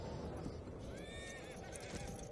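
A horse whinnies in the World of Warcraft siege of Lordaeron, a rising, wavering neigh over a busy battle din with hoofbeats and clatter, fairly quiet overall.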